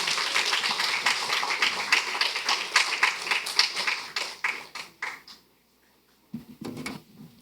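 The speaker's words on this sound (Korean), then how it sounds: "앞으로 나와 박수로 환영하겠습니다" Church congregation clapping in welcome during a Sunday service, a brisk burst of many hands that fades out after about five seconds, followed by a short pause and a faint voice.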